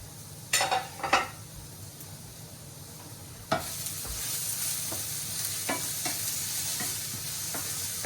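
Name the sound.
bacon, sausage, mushrooms and zucchini sautéing in a pan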